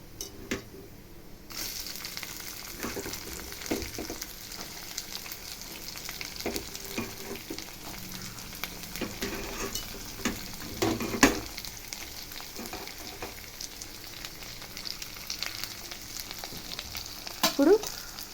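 Onions and curry leaves frying in oil in a pan for a tamarind-leaf curry, a steady close sizzle with intermittent stirring scrapes and clinks, no talking.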